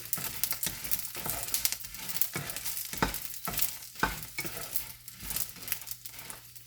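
Bitter gourd roasting in a pan for chutney, a steady soft sizzle broken by repeated scraping stirs of a spoon against the pan, close and moderately quiet with no talk.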